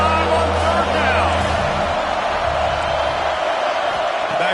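A roaring stadium crowd at an Ohio State Buckeyes home game against Wisconsin cheers on a third down, a dense, steady wall of sound with faint whoops, while a commentator talks over it.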